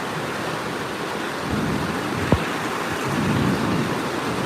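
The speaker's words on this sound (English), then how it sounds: "The rain's really bucketing down." Steady, dense rain hiss fills the whole stretch, a continuous broadband wash with a brief sharp tick partway through.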